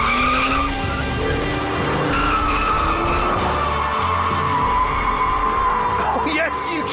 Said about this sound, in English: Obviously, you can't skid it about like a Ferrari 488 because those electric motors are always trying to drag it straight, but you can skid it about.